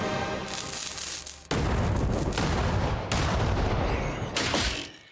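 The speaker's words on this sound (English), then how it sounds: "Yep, this is why we don't use hand cannons." Hand cannon blasts in Kingdom Come: Deliverance during a roadside ambush, with several loud, booming shots in close succession, each one cracking sharply before a long, rumbling tail.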